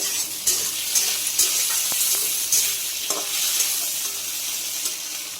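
Potatoes and torn bay leaves frying in oil, a steady hiss of sizzling with occasional stirring scrapes and small pops, close and fairly loud, no voices.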